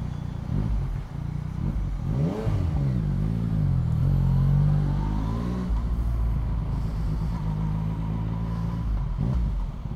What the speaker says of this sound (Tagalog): Hindi ganun kaingay yung exhaust nya, pero ganda na tunog.